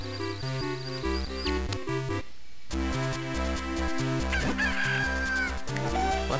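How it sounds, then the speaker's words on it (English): Chickens cluck in The Legend of Zelda: The Minish Cap, their chiptune cries repeating over the game's looping background music, fairly loud and up close. "A bunch of little chickens."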